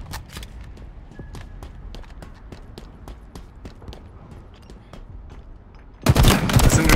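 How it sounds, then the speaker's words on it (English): Single gunshots in Halo Infinite multiplayer, a quick run of sharp separate shots fired in rapid succession, followed by a loud burst of noise at the end. "Single shots."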